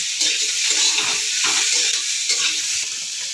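Onion and capsicum frying in a pan for soya chowmein, a loud close sizzle with repeated scraping stirs of a spatula against the pan in an uneven rhythm.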